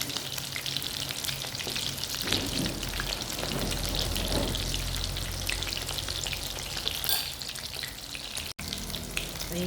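Dried anchovies (dilis) fry in a pan with a dense, even crackle and hiss that holds steady throughout, close and fairly loud, with no voices.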